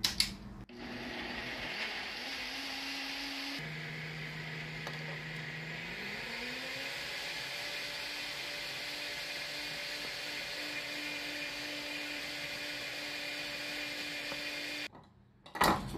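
Steady, loud motor whine from a kitchen blender pureeing consommé for beef tinga, lasting about fourteen seconds. Its pitch rises as the speed changes, then it runs evenly before cutting off.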